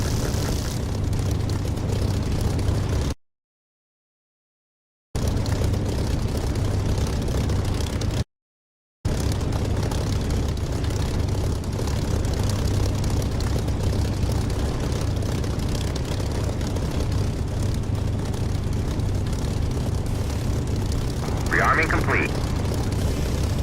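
A jet engine roars during takeoff in the DCS flight simulator game, a loud, continuous drone broken by two brief dropouts, with faint radio-style voices beneath it.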